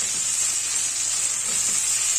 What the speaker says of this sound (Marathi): याला छान शिजू द्यायचं टोमॅटोला